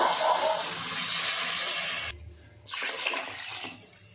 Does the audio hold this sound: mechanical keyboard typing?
no